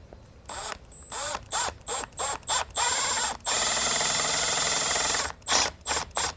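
Fitting being tightened during Kingfisher Eclipse assembly, with close rapid ratcheting bursts in quick repeated strokes, one longer continuous whirr in the middle, then more short ratchet clicks.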